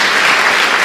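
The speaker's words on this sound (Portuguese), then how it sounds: "Dê uma salva de palmas a Jesus" A congregation applauds during a church service: loud, continuous, tightly packed clapping from many hands that sustains at full strength for the whole moment.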